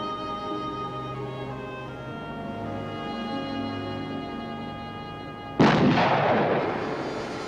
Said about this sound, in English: He fired the shot!